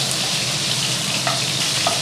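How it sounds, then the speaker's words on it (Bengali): Steamed potatoes fry in hot mustard oil, giving a steady, close sizzle with faint crackles and a couple of brief clinks partway through, with no talking. "আলু ভাজা চলছে, দেখতেই পাচ্ছেন।"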